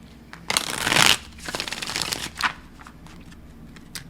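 A tarot deck shuffled by hand, a dense papery riffle swelling into a loud burst, then softer card slaps and flicks as cards are laid down, close and without speech.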